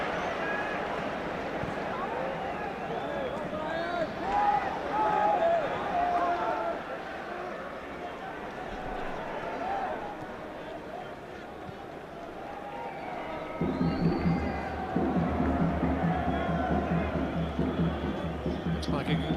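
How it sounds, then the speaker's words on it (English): Large football crowd at Hillsborough stadium during a Euro 96 match, a steady broad roar of distant voices under continuous commentary, swelling louder toward the end. "Looks like a good crowd at Hillsborough tonight, one of the better ones so far"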